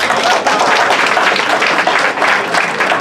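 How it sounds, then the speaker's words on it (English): A large audience breaks into a loud, sustained round of applause for a mayor and a councillor at a community event, dense clapping filling the space without a break. "Please, can we give a huge round of applause for your mayor and Ray, please?"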